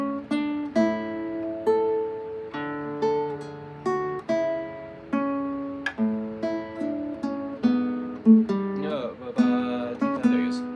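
Guitar passage with bass notes played through, plucked notes and chords ringing out in a steady, gentle sequence, close and clear, with a brief voice near the end.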